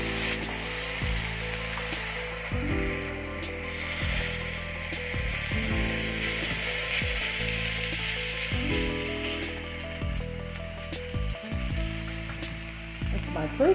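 Garlic and broccoli stir-fry for a red cabbage and pork meatball dish, with a steady loud sizzle throughout and repeated rhythmic scraping and clanking of a utensil against the pan, no talking.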